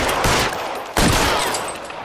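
Rapid gunfire bursts out in the video game LA Noire, with dense overlapping shots in two loud volleys separated by a brief gap.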